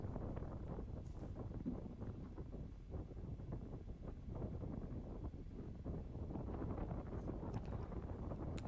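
Steady, loud wind buffeting the microphone on a boat deck near Bergen, Norway, a broad low rumble that holds through the whole stretch with no voices.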